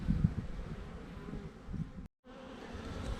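Steady low drone of a large honey bee colony kept two deeps and two mediums, a faint close buzz with a few louder passes near the start and a brief dropout.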